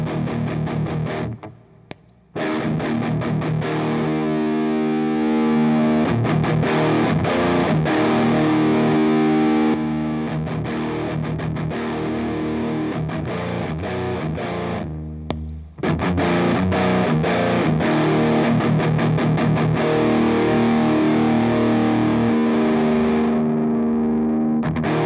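Electric guitar runs through a Catalinbread Dirty Little Secret Deluxe distortion pedal with its boost engaged, thick saturated chords and riffs playing loud and steady for the whole stretch, with brief drops near the start and middle.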